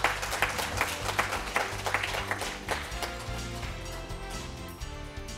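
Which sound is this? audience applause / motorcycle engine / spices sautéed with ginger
audience applause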